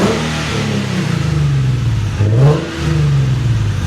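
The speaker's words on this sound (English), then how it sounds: "Go ahead and give it a rev." An Infiniti G37 coupe with a manual gearbox and a Fast Intentions aftermarket exhaust revs hard up close. A loud, raspy engine note climbs, drops and climbs again in quick blips.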